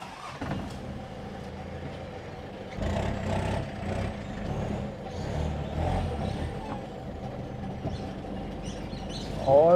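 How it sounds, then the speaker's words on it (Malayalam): Early-1990s off-road vehicle revving and rolling as it is driven up into a plot of land, engine rumble rising and falling at moderate distance, with a brief sharp hiss at the end. "ഫസ്റ്റ് വണ്ടി പറമ്പിലേക്ക് കയറ്റിയിടുന്നു."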